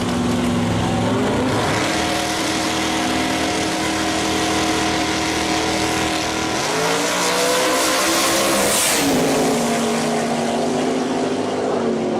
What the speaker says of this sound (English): Fred Hunter with a 56 Chevrolet. That thing is wicked fast